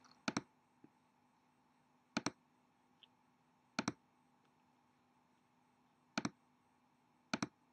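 Computer mouse clicks, sharp double-clicks recurring at irregular intervals of about one to two seconds, close and crisp over a quiet background hum.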